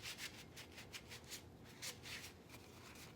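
Wax being rubbed off a painted surface for a rustic finish: soft, repeated scrubbing strokes in an uneven rhythm, close and fairly quiet, with no talking.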